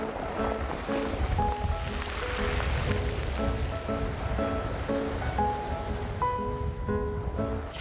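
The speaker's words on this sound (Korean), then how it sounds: "차르르 파도의 검은 제주돌들이 흐르는 소리가 음악 같은데요." Waves wash over black volcanic pebbles on a Jeju shore, giving a steady, continuous rolling hiss and clatter of stones, close and fairly loud throughout, with faint tonal sounds drifting in the background.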